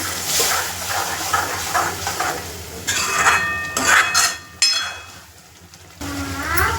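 Water hits hot oil and masala for an egg curry, giving bursts of loud sizzling hiss alongside clattering of a steel mixer jar and pan, with a short quiet gap before a final scrape.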